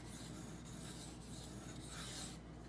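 A Benchmade Bugout blade of 20CV steel is ground on a Norton water stone, producing a continuous soft rasping scrape with faint rhythmic breaks between strokes. No one speaks.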